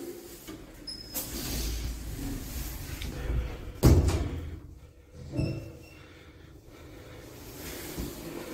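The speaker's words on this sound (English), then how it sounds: "Doors closing." Lift doors sliding shut at Stockport Interchange bus station, a heavy thump as they meet partway through, then a softer knock, with low rumbling ambience and faint background voices.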